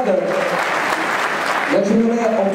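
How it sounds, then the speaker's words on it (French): Applause rings out at the awards ceremony of the Enduropale beach race in Le Touquet-Paris-Plage, steady clapping from a crowd while an announcer talks over it on a loudspeaker. "s'il vous plaît, un triomphe, des applaudissements"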